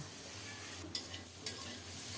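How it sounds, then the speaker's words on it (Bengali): Peanuts are dry-roasted in a dry wok over low heat: a faint, steady hiss with a few soft scraping stirs, and no talk. "শুকনো কড়াইতে অল্প তাপে বাদামগুলোকে সুন্দর মতো ভেজে নেব"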